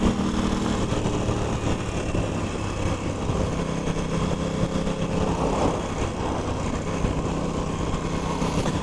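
An Aprilia RS660 motorcycle engine drones steadily while riding, a continuous loud mechanical hum with wind rush and no pauses.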